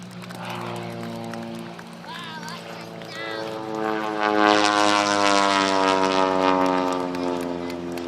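Propeller aircraft passing overhead at an Armistice flying display, a steady droning engine hum that swells louder midway and holds, with a voice speaking over it.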